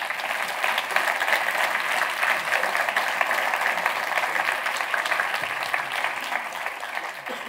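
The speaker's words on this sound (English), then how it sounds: "I hope we get a big round of applause for our panelists." Sustained applause from a large summit audience, even and continuous, a dense patter of many hands clapping at once.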